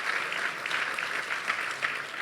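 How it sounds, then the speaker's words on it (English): Steady applause from an audience honouring the filmmakers after a documentary screening on Black wealth and resilience, dense and continuous clapping throughout with no voices standing out. "Just a big round of applause for all the filmmakers"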